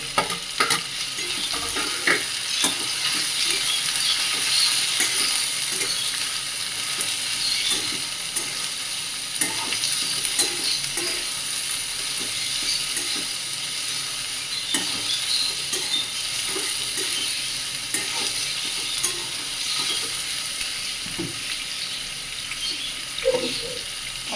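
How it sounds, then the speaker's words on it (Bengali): Garlic and green chilies frying in a pan while kochur loti is cooked with dried fish, a steady loud sizzle with scattered stirring scrapes running throughout, no voices. "রসুন আর শুকনো এই সরি কাঁচা লঙ্কা দিয়ে দিলাম সব কিছু দিয়ে আমি আরেকটু হালকা করে ভেজে নেবো"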